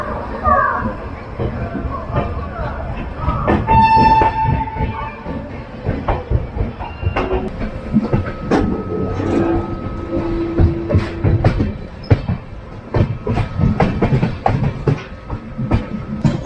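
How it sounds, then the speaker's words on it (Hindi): Sampoorna Kranti Express pulling out of Patna Junction, with steady rumbling rail noise and clattering wheels heard from on board, a brief horn-like tone, and people talking throughout. "पटना जंक्शन से अपनी ट्रेन राइट टाइम निकल चुकी है"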